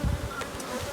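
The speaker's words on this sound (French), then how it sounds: "c'est une abeille hybride, une reine hybride" Hybrid honey bees buzzing steadily at an open hive with a hybrid queen, a close, continuous insect drone lasting under a second with no voices.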